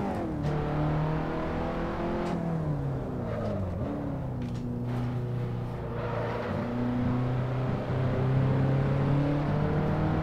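A race car in Assetto Corsa drives with a loud, close engine drone that rises and falls through gear changes, its pitch sweeping down under braking and climbing again on acceleration.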